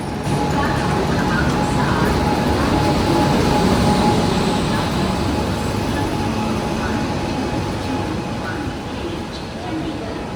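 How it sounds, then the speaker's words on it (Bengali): Kerala Sampark Kranti Express from Chandigarh to Kochuveli rolls into platform seven at Panvel station during the monsoon, a loud, steady broadband rumble lasting throughout with faint voices in the background. "train number one two two one eight Chandigarh থেকে কচুভেলি যাওয়ার কেরালা সম্পর্কান্ত এক্সপ্রেস ঢুকছে প্ল্যাটফর্ম নাম্বার সেভেনে"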